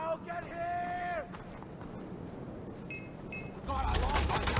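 Bursts of rapid gunfire in the Far Cry 4 video game, rattling volleys mixed with in-game tones and effects, growing louder and denser near the end.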